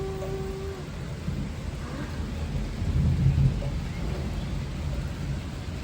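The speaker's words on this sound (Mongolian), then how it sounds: "Бороо орж байгаа болохоор одоо ингээд бороо орж байгаа" Steady rain pours outdoors while a deep roll of thunder rumbles beneath it, swelling to its loudest about midway before easing back into the constant hiss of rainfall, with no voices.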